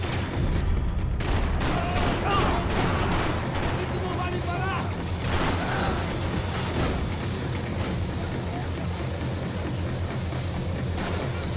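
Video game gunfire crackles in dense, continuous bursts behind constant battle noise, fairly loud throughout, with voices talking over the shooting in the first half.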